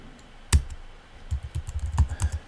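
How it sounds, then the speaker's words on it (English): Someone types a presentation title in Google Slides on a computer keyboard, a quiet close sequence of soft keystroke clicks, one sharp tap early and then a quick irregular run of presses. "I'm just going to type in"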